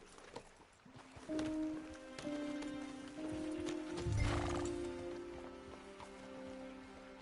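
Horses in the game Red Dead Redemption 2 at a rural spot: hooves clop faintly among soft pattering rain, with low ambient music tones underneath and a brief louder thump midway.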